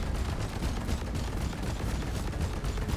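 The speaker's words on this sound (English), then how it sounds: "toss my 2 final nades here" Grenade explosions and combat blasts in the video game Deep Rock Galactic form a loud, dense, continuous roar of overlapping booms with no pause.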